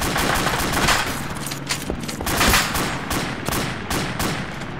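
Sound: enemy gunfire in the video game ARMA 2

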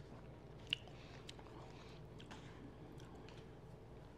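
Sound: biting and chewing crunchy crinkle cut french fries

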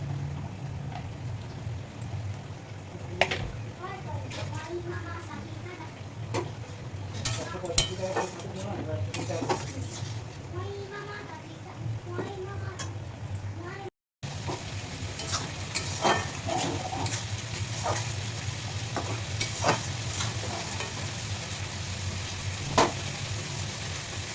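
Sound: fried fish added to a pan of cooking vegetables

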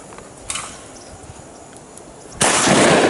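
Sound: shotgun shot at a dove

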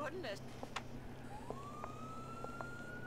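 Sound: police car siren in a video game

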